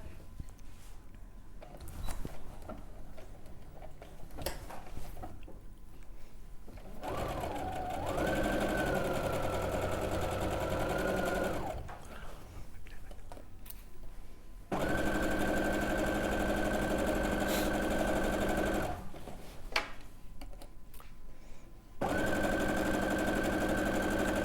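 A domestic sewing machine stitches in several bursts, a steady close whir that starts and stops between quieter pauses, with no talking.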